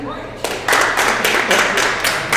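Basketball teammates break into a sustained round of clapping to vote, a dense, steady patter of many hands that starts after a brief pause and carries on, with voices mixed in.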